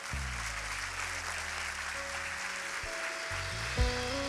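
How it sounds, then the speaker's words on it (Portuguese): Church congregation applauding together, a dense steady wash of clapping filling the room, with sustained organ or keyboard notes playing underneath and a brief louder burst near the end. "Agora, aplauda Jesus."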